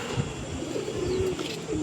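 Pigeon cooing up close, a low soft rolling coo over a faint background hiss, with no talking.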